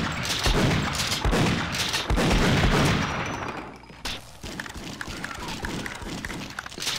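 Gunfire in the video game Half-Life: Opposing Force: a steady run of close, punchy shots and bursts in quick succession, loud and continuous at first, then thinner, scattered shots after a brief lull.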